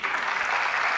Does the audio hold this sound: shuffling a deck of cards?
no